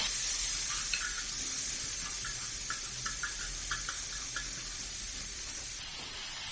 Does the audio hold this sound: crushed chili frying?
yes